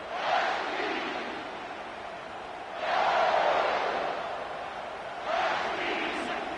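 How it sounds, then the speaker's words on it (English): A stadium crowd roaring at a football game, broad washing swells of massed voices rising and falling in three distinct waves, loud and full. "This crowd, full throat, splitting the eardrums and letting them know it's going to be a long day."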